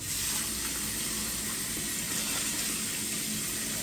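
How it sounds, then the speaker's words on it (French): Water pours steadily into a cooking pot for herring rougail. The gush is loud and even from start to finish, heard up close with no talk. "Mettre de l'eau."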